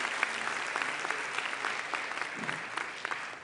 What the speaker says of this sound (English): Please join me in giving them a real great round of applause.